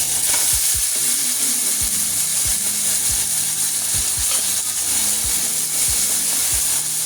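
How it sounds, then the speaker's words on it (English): A cheap steak frying in a pan, a loud continuous close hiss with low clicking knocks scattered through it, no voice. "Gonna let it cook on the bottom a little bit longer and then I'll take it off."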